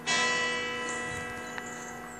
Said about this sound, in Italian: adesso stanno battendo le ore 6 con la campana maggiore